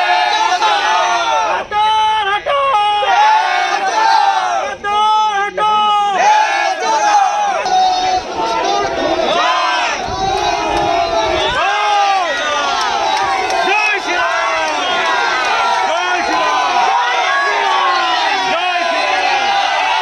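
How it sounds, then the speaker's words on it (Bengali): Crowd at a political protest in Tamluk chanting Jai Shri Ram slogans, a loud dense mass of voices shouting in rhythmic waves throughout, with some louder individual cries standing out. "তবে তৃণমূলের পাল্টা বিজেপিও জয় শ্রীরাম স্লোগান দিতে থাকে"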